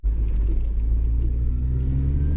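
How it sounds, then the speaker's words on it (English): Mini R52 four-cylinder engine pulling steadily while driving, a loud, continuous low rumble with a sustained engine drone heard from inside the car, no talking. "this is a really nice sounding 4-cylinder"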